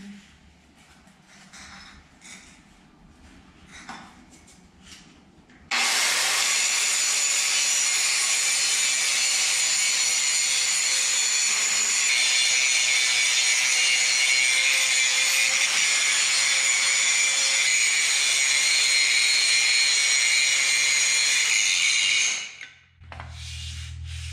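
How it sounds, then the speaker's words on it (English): An angle grinder cleaning up the front end of an 856 tractor, starting abruptly into a loud, steady high whine for about seventeen seconds before cutting off, alone without talk. "This grinder's got some power to it."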